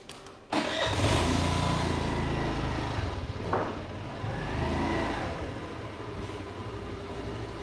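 A car engine catches and starts abruptly, then settles into a steady, loud, close idle rumble with a brief rev partway through, no voices over it.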